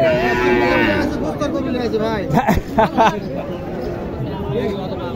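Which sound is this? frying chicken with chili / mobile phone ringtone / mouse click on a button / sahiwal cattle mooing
sahiwal cattle mooing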